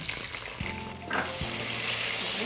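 Tomato dropped into hot oil in a home kitchen pan, the sizzle swelling and holding steady after a couple of soft knocks, close and fairly loud, no talking.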